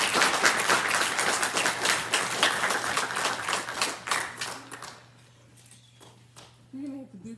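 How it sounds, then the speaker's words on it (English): A crowd at an FFA awards banquet applauds loudly for about five seconds, then the clapping stops abruptly and a low hum and faint voices remain. "Please join me in giving them a round of applause"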